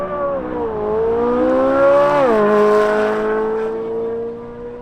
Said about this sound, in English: This produces a really interesting intake noise